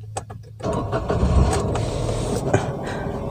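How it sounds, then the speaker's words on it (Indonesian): A car engine cranks and catches, settling into a steady close idle after a few faint clicks, with no talking. "Lalu kita mulai akan start engine-nya."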